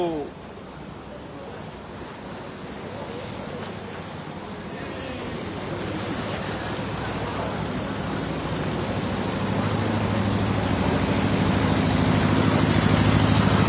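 A motorcycle rides through deep floodwater on a flooded city street after heavy rain, its engine drone growing steadily louder over rushing, splashing water and churning noise.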